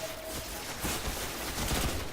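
The Red Death pulse rifle fires in Destiny as a continuous rapid volley of gunfire with repeated bursts, fairly faint and with no talk over it.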